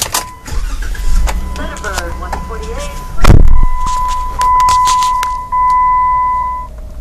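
A 2014 Jeep Wrangler Rubicon engine cranks briefly and fires with a sharp burst, then settles into a steady idle while electronic chimes ring out; someone talks over the start beforehand.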